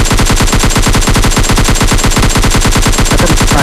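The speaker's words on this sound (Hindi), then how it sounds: "अरे वैसे ही गोली चला रहे हैं" Sustained automatic gunfire from the PUBG Mobile Lite video game rattles in rapid, evenly spaced bursts, loud and close throughout with no talking.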